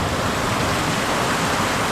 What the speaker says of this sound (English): massive downpour.